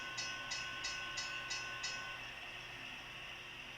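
An HO-scale model train running on a layout through a modeled downtown Seattle, faint steady running hum with a regular light clicking rhythm of rail joints, about six evenly spaced ticks, no speech.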